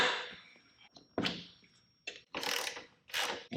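Ratchet wrench removing the 6mm Allen and 10mm seat bolts on a Honda VTX motorcycle, heard up close as several short bursts of clicking, with separate clunks and pauses between them.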